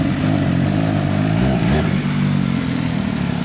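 A motorcycle engine roars loudly and steadily as it rides past close by.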